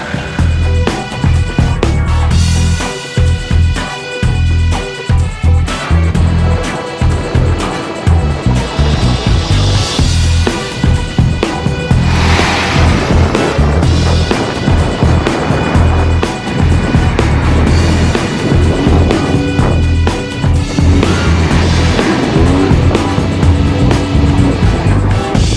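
An off-road car pushes through desert sand during driver training, its engine roaring loudly and revving up and down over a long stretch, with rumbling, gusty noise of tyres churning sand and wind.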